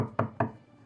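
Two sharp, heavy knocks land on a door in quick succession, close and distinct, then fade into quiet.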